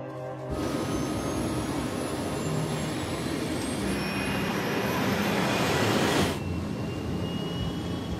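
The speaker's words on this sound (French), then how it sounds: "Les moteurs fonctionnent, la vitesse augmente." Concorde jet engines roar continuously as the aircraft gathers speed, a loud, broad, steady rush that fills the whole stretch and swells slightly before dropping off near the end.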